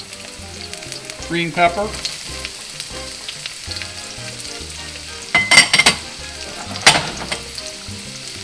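Onions and green pepper frying in a hot wok: a steady sizzle broken by louder bursts of stirring and tossing, with a couple of brief spoken words.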